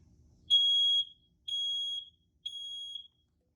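Three loud, shrill electronic beeps from a Family Guard smoke alarm, each lasting about half a second with even gaps, ringing close and alone after a brief low rumble.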